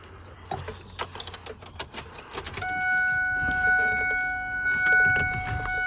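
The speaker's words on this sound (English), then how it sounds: "So we'll put the key in real quick." Keys jangle and click as one is fitted into the ignition of a Ford 7.3L Powerstroke truck, followed by a steady electronic chime and faint hum as the ignition switches on.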